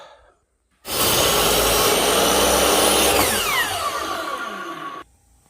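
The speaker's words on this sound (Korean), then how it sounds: "길이에 맞춰서 2x4를 잘라줘야 되겠죠" A power saw cuts 2x4 lumber to length while building a chicken coop roof. It starts abruptly, whines loudly and steadily for about four seconds, then stops. No one speaks.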